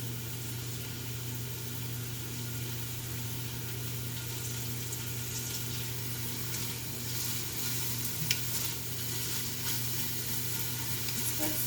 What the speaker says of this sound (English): that's our onions just starting to sizzle here